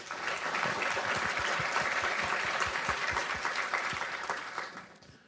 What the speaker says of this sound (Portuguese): Uma salva de palmas para o Aleph, pessoal.